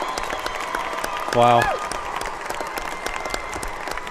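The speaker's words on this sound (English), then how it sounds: "And they get a standing ovation from the crowd." A crowd at a state championship basketball game gives a standing ovation, a steady bed of clapping and cheering heard at a distance, with a brief exclamation from a nearby voice over it.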